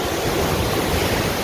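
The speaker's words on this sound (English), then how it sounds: "Ocean's super clear and beautiful. Pretty choppy right now." Choppy ocean waves at a beach make a dense, continuous roar of surf and wash, loud and close with no pauses.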